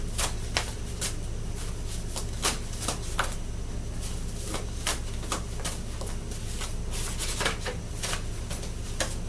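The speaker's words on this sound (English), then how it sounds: "let me shuffle them real good before I start pulling" A deck of cards is shuffled repeatedly and close up, a steady riffling rustle broken by crisp snapping bursts, with no voice over it.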